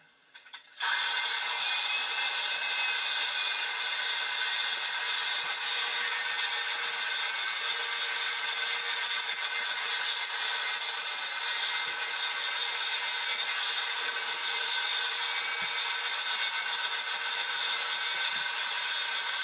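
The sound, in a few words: drilling a hole in a 1957 John Deere 620 engine block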